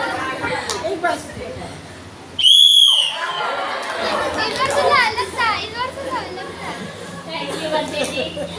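A loud whistle blown at a camp cuts through the chatter of a crowd of children, one sharp shrill blast lasting about half a second, with the voices carrying on around it.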